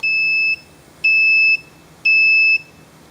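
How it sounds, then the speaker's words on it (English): A Defi-style oil pressure gauge warning buzzer sounds three even, shrill electronic beeps, each about half a second long and spaced roughly a second apart, close and alone. "the alarm's going off because my oil pressure's at 0"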